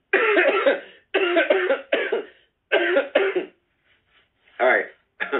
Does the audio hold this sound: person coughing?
yes